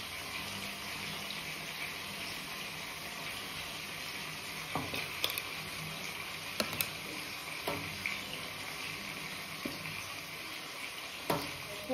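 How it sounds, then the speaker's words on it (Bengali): Potatoes fry in hot oil with a dense, continuous sizzle and occasional pops and clicks, close and steady throughout, without any talk. "ফার্স্টে আলুগুলোকে ভেজে নেব"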